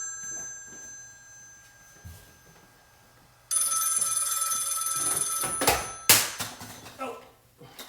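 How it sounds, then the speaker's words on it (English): An electronic telephone ringer trills in repeated bursts over a low hum, starting loud midway and going on in sharp, rattling pulses. "Phone's ringing."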